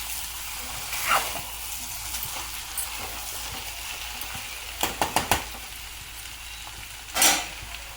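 Potato curry sizzles in a pan under a steady hiss of frying, with a few sharp scrapes and clinks of a spoon stirring against the pan in a quick cluster and again near the end.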